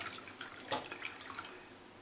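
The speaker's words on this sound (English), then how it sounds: "just gently pouring and stirring" Lye solution trickling gently into oils for cold-process handmade soap as it is stirred, a soft faint liquid pour with a brief splashy swirl near the middle, quiet and close with no talk.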